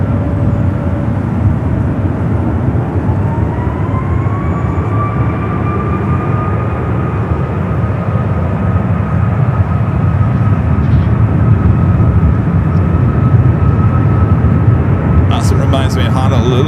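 A Southwest airliner takes off at San Francisco International, rotating early. Its loud, steady jet roar fills the whole stretch, with a rising engine whine and a brief clatter near the end.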